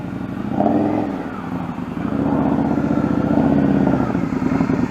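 Motorcycle ridden at low speed in a rider-training lesson, engine revving and settling with a rough, pulsing mid-range drone and slight clatter, fairly close, no talk.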